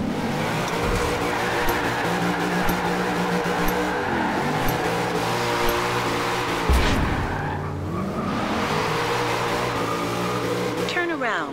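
A Bugatti racing in a video game, its engine revving and shifting up and down continuously, with skidding tyres and a sharp thump midway; a voice talks over it at times.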